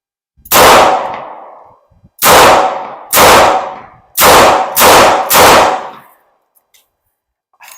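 Six sharp, loud revolver shots in .38 Special or .357 Magnum from K-frame and J-frame models crack at an outdoor range, fired in two uneven groups with short gaps and a quick trailing decay after each.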